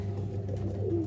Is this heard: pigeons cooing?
yes